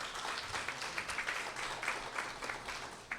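Church congregation clapping to welcome visitors at a Spanish-language service; fairly soft, continuous applause from a gathered crowd with faint murmuring underneath.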